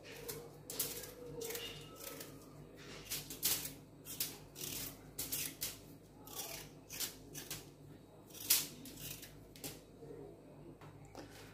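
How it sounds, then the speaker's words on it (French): A small potato is peeled by hand for a vegetable harira, giving quiet, repeated scraping strokes in an irregular rhythm, close and faint, with soft kitchen handling noises in between. "Donc là je vais éplucher ma petite pomme de terre"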